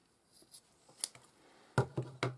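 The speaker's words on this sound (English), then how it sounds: "And now we can cut this end off here. Cut it nice and close." Scissors snip off the end of a paracord keychain, with a few faint handling rustles before three crisp, close clicking cuts in quick succession.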